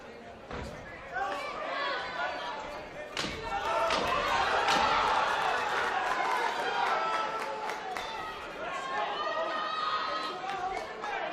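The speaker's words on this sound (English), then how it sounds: "The crowd still making a lot of noise here." Boxing crowd at a live championship show in Bolton roars continuously throughout, a dense wash of cheering and shouting with occasional loud thumps and slams, while a commentator's voice runs over the noise.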